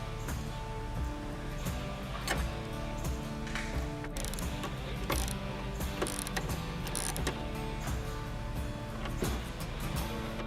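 A ratchet snugs up bolts on ditch light brackets for a 2022-or-newer Nissan Frontier, producing steady, close mechanical clicking and ticking that runs throughout without any voices.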